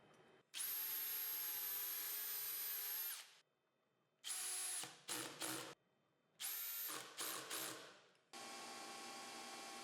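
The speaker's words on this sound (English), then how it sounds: "I'm going to use double-sided tape and screws to fasten these pieces to the miter box." A power drill drives screws to fasten pieces onto a miter box, with several loud, close whining bursts of varying length, sudden stops, short pauses and pitch drops as each screw seats.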